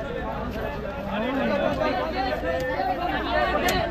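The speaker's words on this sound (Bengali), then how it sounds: "ভিড়ের অবস্থা দেখুন।" A packed general coach on a train from Kolkata toward Patna hums with dense passenger chatter, many overlapping voices close and loud over the rumble of the moving carriage.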